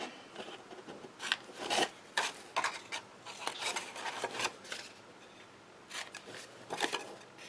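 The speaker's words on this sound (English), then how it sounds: "we're going to trim a little bit off of the 1/2-inch piece" Scissors or a trimmer cutting a piece of card paper for a handmade fold card, a series of short crisp rasping snips in irregular bursts, close and fairly quiet, no voices.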